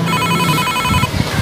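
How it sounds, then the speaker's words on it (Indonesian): A telephone bell rings in a repeated electronic trill for about a second, then stops, leaving background murmur and a few soft knocks. "Siapa yang telepon ya?"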